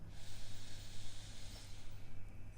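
Slow, deep breaths drawn in and let out during a gentle yoga session, a close, airy hiss rising and falling in a soft, unhurried rhythm.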